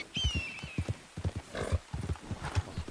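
A horse in a story-mode video game is shot by an arrow, heard as rhythmic hoofbeats with a sharp, high whinny near the start, fairly faint.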